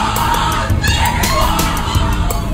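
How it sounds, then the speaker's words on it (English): Skull and Bones initiation ceremony with senior students introducing fifteen new members: a rowdy crowd of shouting, yelling voices chanting together, loud and chaotic throughout. "What you're hearing is the first recording ever made of the Skull and Bones initiation ceremony."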